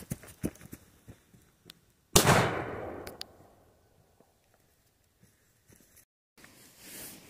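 PP1 firecracker set off outdoors: one sharp, loud bang followed by a decaying rumble, with faint scattered clicks and knocks before and after in an otherwise quiet setting.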